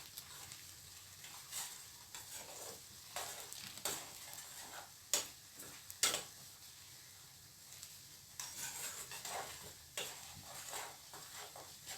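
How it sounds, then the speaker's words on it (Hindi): A spoon stirs lauki (bottle gourd) in oil in a pan over a soft, steady sizzle, with irregular light clicks and scrapes against the metal. It sounds close and fairly quiet, and no one speaks. "आपने इस तरह से इसके अंदर चम्मच हिलाते रहना है"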